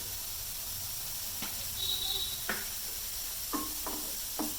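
Carrots sautéing in a pan for carrot chutney give a steady, soft sizzle and hiss close by, broken by a few light stirring scrapes.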